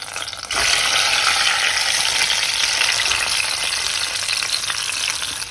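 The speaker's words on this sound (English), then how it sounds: "I'm adding now the tomatoes." Tomatoes drop into hot olive oil flavored with garlic and bay leaf, bursting into a loud, steady sizzle that keeps crackling on its own.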